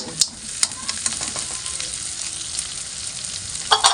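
Shrimp paste (bagoong alamang) hits a pan of tomatoes and sizzles loudly and steadily, with sharp clinks and scrapes of a spoon stirring throughout.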